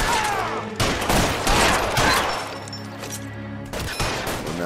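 Rapid gunfire in the LA Noire video game, a string of sharp close shots in bursts separated by brief gaps, with a short pause near the end before more shots ring out.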